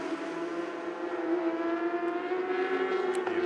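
Superbike engines screaming around a racetrack during a championship race in Malaysia, a sustained high-pitched whine holding steady and swelling slightly as the bikes pass, heard from a distance.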